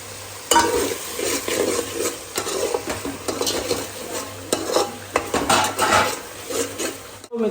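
Onions and tomatoes fry in a pan while a utensil stirs them, with a steady sizzle under repeated scraping and clinking strokes against the pan, close and continuous, no talking.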